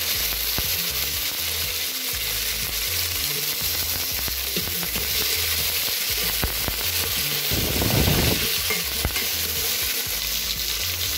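Spices tempering in hot oil for Hyderabadi khatti dal, drumsticks added, a steady loud sizzle and crackle throughout with a brief burst of fiercer frying near the end, no voices.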